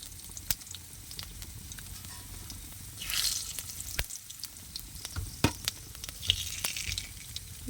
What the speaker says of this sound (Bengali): সেই তেলের ওপরে আমি কিন্তু পাঁচ ফোড়নটা দিয়ে দেবো